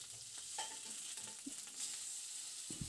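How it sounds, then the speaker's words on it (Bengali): Flat beans frying in a pan with turmeric and salt, a soft continuous sizzle with occasional stirring scrapes and light clinks, close and quiet with no talking. "লবণ এবং হলুদ দেওয়ার পর শিমগুলি একইভাবে ভেজে নিচ্ছি"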